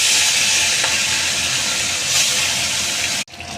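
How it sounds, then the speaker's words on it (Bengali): Fish pieces fry in hot mustard oil with a steady, loud, close hissing sizzle that carries on unbroken and then cuts off abruptly near the end. "আমি এবার মাছটা একটা একটা করে ভেজে নেব।"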